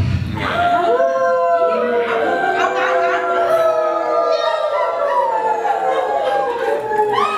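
A person imitates a wolf howl with a long, wavering voice that rises and falls, loud and close, sustained for several seconds.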